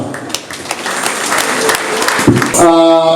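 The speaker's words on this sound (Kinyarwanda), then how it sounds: "Amashyi n'impundu cyane." Guests clap at a wedding in Rwanda, a lively burst of hands that swells toward the end, where high trilling ululation rings out over voices and music.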